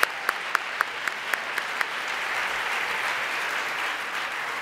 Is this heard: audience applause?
yes